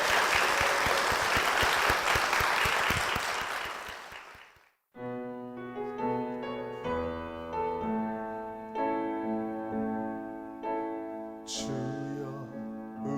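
Church congregation giving a strong round of applause for two guests, a dense burst of clapping for about four seconds that cuts off abruptly as music begins.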